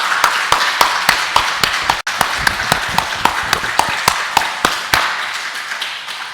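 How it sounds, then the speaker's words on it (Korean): A church congregation at a Sunday worship service claps in steady unison, sharp even beats about five per second ringing through the sanctuary, with faint voices underneath before the clapping thins out near the end. "다 같이 하나님께 박수 올리겠습니다"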